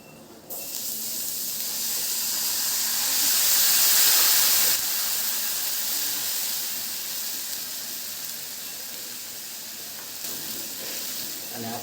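Water poured into hot oil with Kashmiri red chilli, coriander-cumin, turmeric and asafoetida bursts into a loud, steamy hiss that swells and then slowly eases into a softer, steady sizzle, close and continuous.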